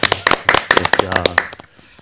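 A small group in a Korean current-affairs studio gives a quick round of applause for passing 150,000 subscribers: a brief cluster of sharp, close hand claps that thins and fades out after about a second and a half.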